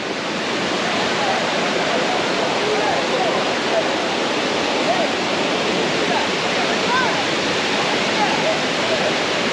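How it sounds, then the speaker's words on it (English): Thiruparappu Waterfalls in Kanniyakumari, Tamil Nadu, sends out a dense, steady roar of falling water, loud and unbroken throughout with no voices. "let's go and see closer view of the waterfall"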